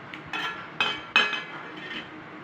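A metal lid clinks onto a cooking pot of Bhola bhapa, three sharp clanks in quick succession followed by a faint rattle, close and clear against a quiet kitchen.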